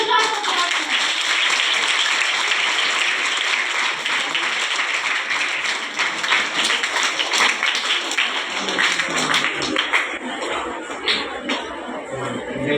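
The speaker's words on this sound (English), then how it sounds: "Give a huge round of applause." Students at a high school session break into sustained, loud applause, a thick steady wash of clapping hands that carries on for over ten seconds before thinning out near the end.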